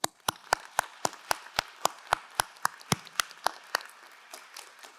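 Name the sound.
applause from the class of 2026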